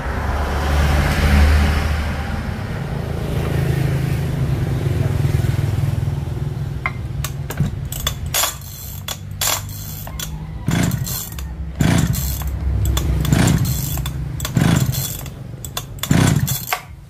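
A small two-stroke engine on a Stihl 030 chainsaw with an ignition fault sputters and catches, first running rough, then revving in repeated bursts, throttling up and down.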